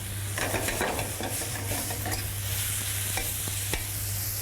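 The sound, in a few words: peppers and shallots frying in a pan over fierce heat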